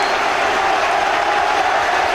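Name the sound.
Aberdeen fans applauding at a football match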